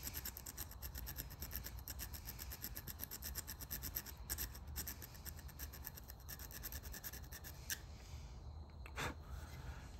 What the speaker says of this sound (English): I'm gonna grind it a little bit more.